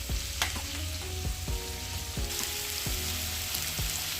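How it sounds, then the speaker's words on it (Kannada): Turmeric frying in a pan for capsicum rice (chitranna), a steady close sizzle with repeated scraping stirs of a spoon against the pan. "ಚೆನ್ನಾಗಿ ಫ್ರೈ ಆಗಲಿ."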